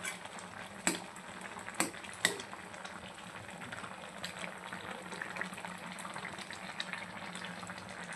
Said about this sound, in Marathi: उकळी आलेली आहे.